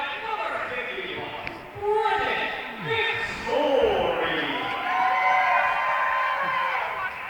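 A crowd at a hockey game between the West Michigan Sentinels and Northern Michigan Warhounds cheers and whoops in a steady swell, with an announcer talking over it.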